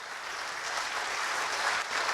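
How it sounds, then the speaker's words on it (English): At an electrical trade roadshow, an audience claps for a presenter, producing a steady, even wash of applause from a seated crowd throughout, fairly loud and diffuse, with no individual claps standing out. "Give him a round of applause."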